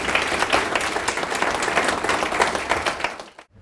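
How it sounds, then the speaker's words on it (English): An audience at an intellectual property event applauds the panelists, dense steady clapping from a crowd that carries on evenly before cutting off abruptly at the end. "If you can give them a round of applause"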